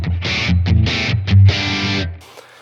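An electric guitar played through a Blackstar Amped 1 amp sounds a few short, distorted chord stabs in quick succession, then a longer held chord that cuts off abruptly.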